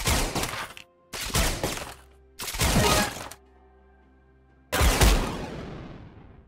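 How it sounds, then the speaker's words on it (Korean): Rifle shots from the Arcade Caitlyn skin in League of Legends, four loud, sharp blasts with crackling tails, the first three in quick succession and the last after a pause, ringing out into a fading electronic decay. "빵! 헤드샷."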